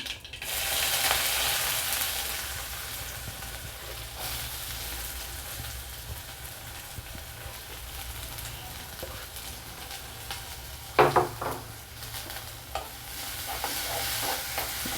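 Sliced onion fries in a hot pan for ragi dosai, giving a steady broadband sizzle with occasional stirring scrapes and a brief louder clatter midway, with no voices.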